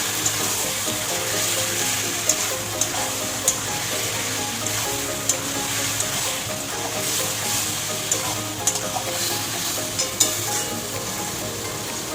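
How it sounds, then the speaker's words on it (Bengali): Jackfruit curry sautés in a pan with ground cumin, coriander, chili, turmeric, salt and a splash of water, producing a steady sizzle with bubbling and regular clicks of the stirring spoon against the pan. "ভালো করে কষিয়ে নেব।"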